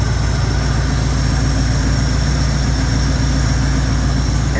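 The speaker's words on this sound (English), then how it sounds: "the engine sounds absolutely amazing" A Jeep J10 engine idles steadily, a loud, even low rumble with a constant mechanical hum and no change in pace, heard close up and uninterrupted.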